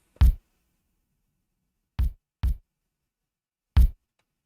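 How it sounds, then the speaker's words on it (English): Four deep, punchy kick drum hits from Ableton stock sounds play alone in a simple, uneven pattern, separated by silence. "that's a basic kick pattern for this loop"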